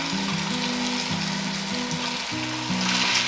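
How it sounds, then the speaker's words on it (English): Drained beans are stirred into sizzling beef chili in a hot pot, with steady frying crackle and a spatula scraping through throughout, close up and without speech. "Just keep stirring with each addition."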